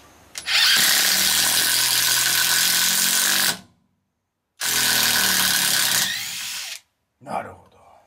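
A cordless driver drill drives a coarse-thread screw into a pre-drilled pilot hole, giving two long, loud, close whirring runs of about three and two seconds. Each run stops abruptly and a brief burst follows.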